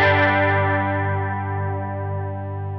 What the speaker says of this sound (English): I'll do that with some clean chorus effects